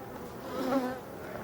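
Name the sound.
honeybees buzzing around beehive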